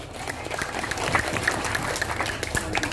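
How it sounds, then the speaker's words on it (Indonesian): Audience applause for a village head at a lively Javanese stage show, steady dense clapping from a crowd filling the whole moment without a break. "Tepuk tangan buat Pak Lurah."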